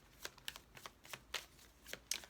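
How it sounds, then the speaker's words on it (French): Tarot cards being drawn and let fall onto a surface: a run of quick papery flicks and soft slaps, about ten in a little over two seconds, close and fairly quiet, with no voice. "Allez, on fait tomber cette carte."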